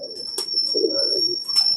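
Soft cooing from a female Sadhna pigeon, a low murmuring coo near the mic with a faint steady high whine and a couple of brief rustling clicks around it.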